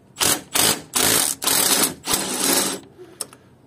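A power gun undoes a bolt on the thermostat housing of an Opel Vauxhall Zafira 1.8 petrol engine: five loud, close rattling bursts of a few tenths of a second each, followed by a faint clink.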